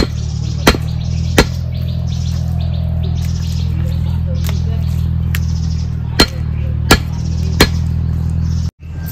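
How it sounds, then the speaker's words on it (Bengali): Poultry chicken meat is chopped with a blade in a village kitchen, giving about five sharp, isolated chops spaced irregularly over a steady low hum. "আজকে পোলট্রির মাংস কাটতে মনে হচ্ছে মোমের মতন কেটে যাচ্ছে"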